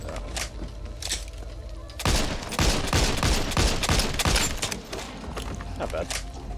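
Rapid bursts of Desert Eagle pistol fire in the zombie shooter Back 4 Blood, a loud cluster of shots with heavy thumps packed into a few seconds, some quieter pops before and after.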